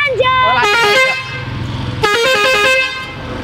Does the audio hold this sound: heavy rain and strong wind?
no